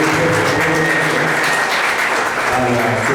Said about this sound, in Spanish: Demos este aplauso a la voluntaria